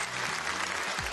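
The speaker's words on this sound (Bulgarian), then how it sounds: "Аплодисменти за Димитринка." Studio audience applause on a Bulgarian television quiz show, a short, loud, steady burst of clapping with faint tonal music beneath it.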